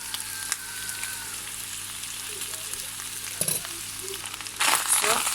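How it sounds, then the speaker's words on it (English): Rice frying in a pan for coconut fried rice, with a soft, steady sizzle under light stirring and a louder burst of frying near the end. "So after adding in our rice now, I'm going to stir together."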